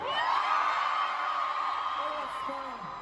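A live crowd at a Dublin reading event screams and whoops loudly for a drummer, a sustained roar of many voices with individual yelps and rising shrieks standing out toward the end.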